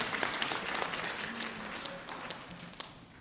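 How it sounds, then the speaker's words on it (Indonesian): Audience applause at an academic oration ceremony in Indonesia, a dense, steady wash of many hands clapping in a large hall, moderately loud and continuous throughout. "Tepuk tangan untuk kita semua bangsa Indonesia."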